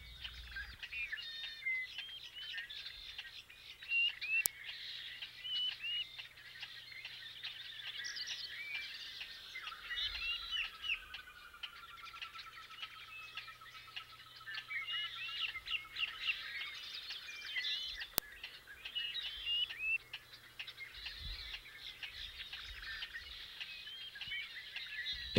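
Marsh birds including the gallineta de ciénega call from delta reed beds, a steady chorus of chirps, trills and whistles at moderate distance, with a faint low hum beneath and no talk.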